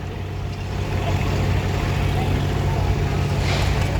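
A John Deere 730 diesel tractor hooked to a pulling sled at a tractor pull roars continuously with a loud, dense engine drone, close and steady, with faint talk beneath it.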